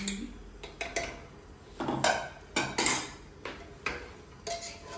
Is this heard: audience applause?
no